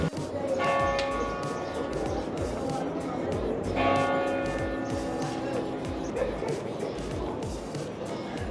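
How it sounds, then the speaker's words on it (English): Church bells ring out in Malta, several clear resonant strikes around the first and fourth seconds with lingering tones, under a noisy outdoor background with people talking nearby. "There's quite a lot of church bells going off whilst we've been here."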